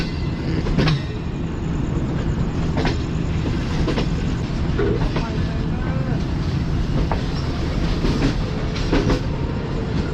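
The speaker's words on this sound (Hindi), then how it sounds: "ट्रेन हमारी जो है मेन प्लेटफॉर्म पर अप्रोच बना रही है रावलपिंडी रेलवे स्टेशन के" A passenger train pulls in along the main platform at Rawalpindi railway station, with steady loud rumbling and periodic clicks and clanks of wheels over rail joints, plus faint voices in the background.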